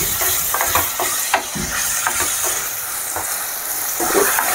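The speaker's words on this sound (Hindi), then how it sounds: "प्याज को बिल्कुल अच्छे तरह से भूनना है" Chopped onions sizzle steadily in an oil-filled pan for chole, with a spoon scraping and stirring in irregular strokes over a constant frying hiss, close and fairly loud.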